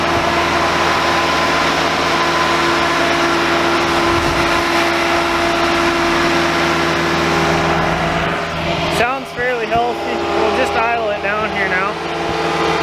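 Engine of an old Bobcat 825 skid steer running at a steady, loud idle with a constant low rumble, while a voice briefly talks over it near the end.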